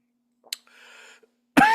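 A single throaty cough bursts out, followed after a short pause by a louder, harsher cough, close to the microphone in an otherwise quiet room.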